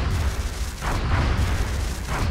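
Two heavy gunshots fire at a UFO in the strategy game XCOM: Enemy Unknown, each a booming burst spaced about a second apart, with a low rumble between them.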